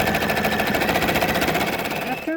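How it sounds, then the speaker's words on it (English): An embroidery sewing machine stitches a design onto minky fabric for a memory bear, a steady, fast mechanical whir with even stitching rhythm running throughout at close range. "line up your needle to the center of the design and start embroidering"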